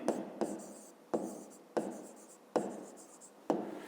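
Pen or pencil writing numbers by hand on paper for a fifth-grade maths exercise: six crisp strokes, each starting with a sharp scratch and trailing off, spaced roughly evenly, near and quiet.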